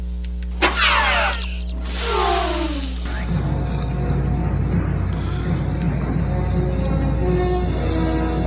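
A car's electric power windows whir up and down twice in close succession, followed by a low, steady interior car hum that runs on alone.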